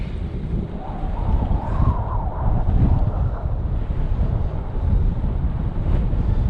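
Strong wind batters the microphone on a freezing winter mountain near the Three Tarns, a loud, close, rumbling buffet that rises and falls in gusts for several seconds.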